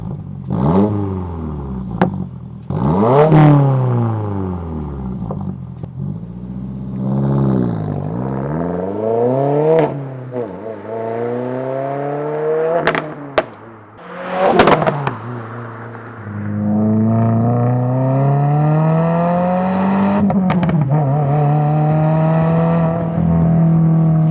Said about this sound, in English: Here we got a custom exhaust that they already put on.